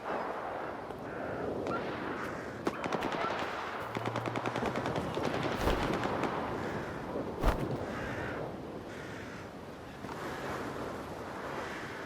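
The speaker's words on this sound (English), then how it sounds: "It's a bit of a firefight up ahead." A distant firefight crackles with bursts of automatic gunfire and scattered shots over wind and a stormy outdoor ambience in the video game S.T.A.L.K.E.R. 2: Heart of Chornobyl.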